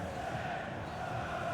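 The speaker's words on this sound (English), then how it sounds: "she's being egged on by the crowd" Crowd noise from a women's international football friendly between China and Everton, a steady roar and chatter of spectators spreading through the stadium without letup.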